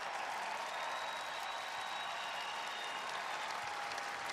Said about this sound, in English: how about a round of applause for the hard-charging Providence